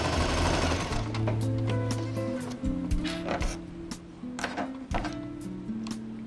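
A sewing machine stitches fabric pieces for a floral toiletry bag, its motor whirring loudly and close in uneven runs with rattling mechanical clatter and short stops between bursts.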